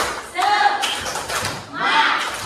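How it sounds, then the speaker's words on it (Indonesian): A school class claps a rhythmic spirit cheer in a classroom, two bursts of group clapping close by, mixed with voices talking over them. "Mari kita tepuk semangat."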